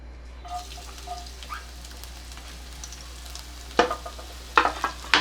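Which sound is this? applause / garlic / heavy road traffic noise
garlic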